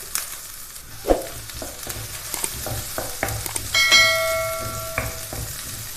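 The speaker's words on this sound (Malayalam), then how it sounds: "സവാളയിലേക്ക് 2 പച്ചമുളക് കട്ട് ചെയ്തത് ചേർത്ത് വഴറ്റിയെടുക്കാം" Onions and green chilies sauté in a pan with a soft sizzle and scattered stirring scrapes and clinks, and a ringing metallic tone sounds partway through.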